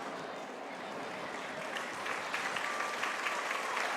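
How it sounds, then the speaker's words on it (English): At a high school football game, spectators in both stands applaud and cheer, a broad steady wash of clapping and crowd noise heard from a distance that swells slightly toward the end. "you can hear the cheer of both sides, both stands."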